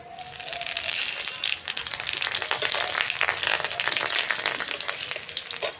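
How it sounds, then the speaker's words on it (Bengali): Green chili and cumin seeds dropped into hot oil left from frying paneer, giving a loud, even sizzle with crackling spatters that holds steadily throughout. "পনির ভাজার তেলেই আমি একটা কাঁচা লঙ্কা আর কটা জিরে দিয়ে নিচ্ছি।"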